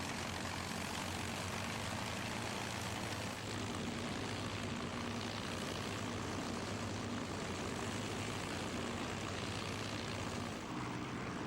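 A vintage warbird's piston engine at the Duxford Flying Legends air show drones on as a continuous, loud propeller roar with no break in it.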